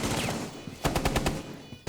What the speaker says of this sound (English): And Matt is going to rip down his barricade to bait out the gunfire.